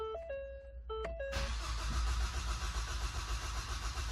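A Ford EcoBoost engine with a misfire during a cold start: a short starter crank, then the engine catches and runs loud and steady with a rough, uneven undertone close by.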